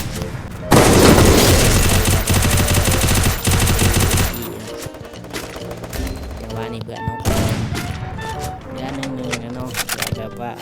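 Rapid gunfire and bursts of automatic weapons fire in a shooting video game, loud and dense at first, then scattered shots under ongoing talk.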